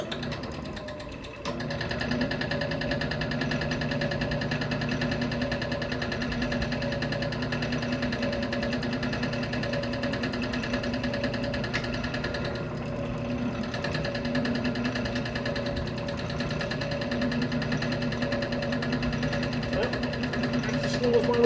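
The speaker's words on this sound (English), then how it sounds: "That's the slowest my lathe will go." A wood lathe turns a giant maple bowl blank at its lowest speed, giving a steady, loud mechanical hum and drone with a slight rhythmic throb that carries on without a break. A voice can be heard faintly beneath it.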